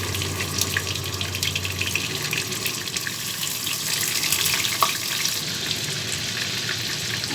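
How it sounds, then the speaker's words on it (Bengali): Prawns frying in hot oil in a pan for Bengali chingri malaikari, a steady, even sizzle with a fine crackling hiss that runs throughout without pause. "তেলটাকে গরম করে নিয়েছি, এবার মাছগুলোকে আমি এক একে দিয়ে দিব।"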